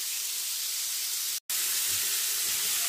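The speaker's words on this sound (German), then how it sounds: "Ganz scharf, ganz doll einmal anbraten, portionsweise." Meat seared hard in a very hot pan in small batches for gyros soup, giving a steady loud sizzling hiss throughout, broken only by a brief moment of silence midway.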